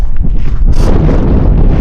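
Light wind blows outdoors near Rovaniemi in Finnish Lapland, a loud steady rumble of gusts buffeting the microphone throughout.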